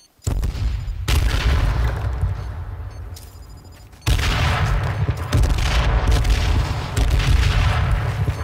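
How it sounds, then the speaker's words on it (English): Heavy booming gunshots in a squad-based shooter video game, loud sharp reports with long rumbling tails, one near the start, another around the middle and more sustained firing afterward. "I might have heard an M40"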